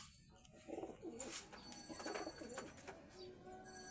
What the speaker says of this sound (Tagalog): Tignan mo laki ng kalapati kasi laki na nila.